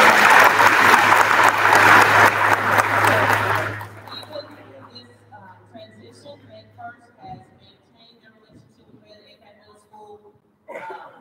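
Audience applause at an eighth grade awards day ceremony, a loud sustained burst of clapping that fades out after about four seconds, followed by quiet room noise, scattered movements and a brief voice near the end.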